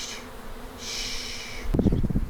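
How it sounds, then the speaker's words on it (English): Honeybees buzz during installation into a hive on a farm, a droning hum that swells and fades in waves, then gives way to close handling thumps and rustles near the end. "There's a lot of bees though."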